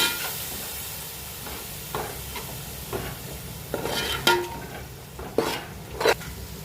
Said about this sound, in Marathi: आता त्याच्यामध्ये मी टमाट्याची पेस्ट टाकते 1 वाटी भरून. आणि त्याला पण आपण परतून घेऊ.